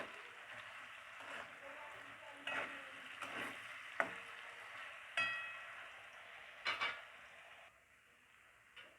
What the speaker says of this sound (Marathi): मीठ टाकल्यानंतर पटकन बटाटा फ्राय होतो